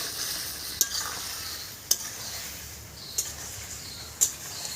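Meat sautéing in a pan after cumin and coriander paste goes in, a soft steady sizzle broken by four sharp spoon clinks against the pot at uneven intervals.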